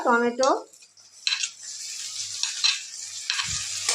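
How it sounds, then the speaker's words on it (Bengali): Chopped tomatoes stir-fried in a pan with garlic, onion and chili: a steady close sizzle with spatula scrapes and clinks, after a brief tonal sound at the start. "টমেটোগুলো একটু নেড়ে চেড়ে ভেজে নেব"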